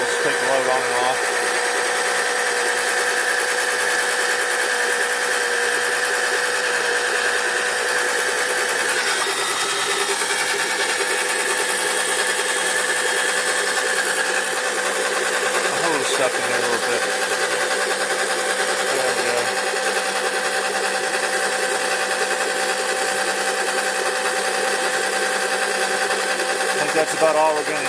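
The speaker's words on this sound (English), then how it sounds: "the oil pump for removing the oil from your engine, gearbox, and differentials, front and rear" Suction oil pump drawing engine oil from a Can-Am Commander, cavitating with air bubbles: a steady whirring mechanical drone with tonal hum, continuous and fairly loud throughout.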